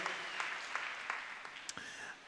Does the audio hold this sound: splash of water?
no